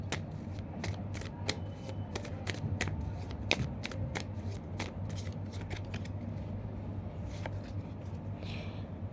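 Tarot cards being shuffled by hand at close range, a quick run of crisp riffling snaps and slides in uneven bursts, quiet and alone with no talking.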